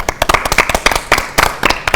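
A group of schoolchildren on a kids' TV show claps for themselves, with quick, uneven, overlapping claps over about two seconds, close and fairly loud.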